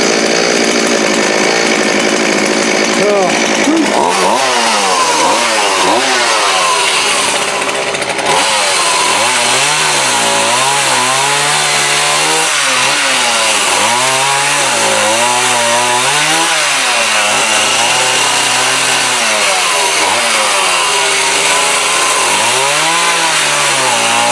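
A Homelite D3850B chainsaw with a dull, used chain cuts a piece of wood. The engine runs loud and close throughout, its pitch repeatedly climbing and sagging under load.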